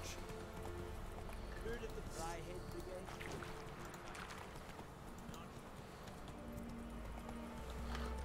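Horse hooves clip-clop at a steady trotting rhythm beneath The Witcher 3: Wild Hunt game music and ambience, with a voice speaking over them.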